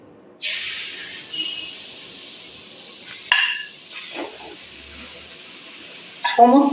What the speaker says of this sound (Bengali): ঘিটা কিন্তু গরম হয়ে গেছে এর মধ্যে এখন আমি গাজরগুলোকে দিয়ে দেবো